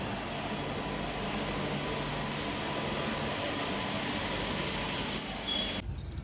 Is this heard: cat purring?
no